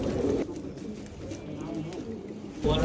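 Pigeons coo in soft, low repeated calls beside a small ornamental water fountain, a gentle rolling murmur close by, with a louder burst of noise at the start and end.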